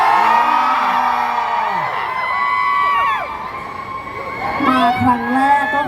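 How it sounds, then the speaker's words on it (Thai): A school event crowd cheering and screaming with high excited voices, swelling and fading in waves, then surging again near the end. "ขอเสียงให้กับไลฟ์ยูค่ะ"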